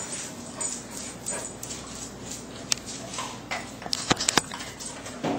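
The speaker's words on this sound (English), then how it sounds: "She's a good dog." A dog whimpers and yips in soft, repeated whines, with a few sharper high cries clustered near the end, close by and alone.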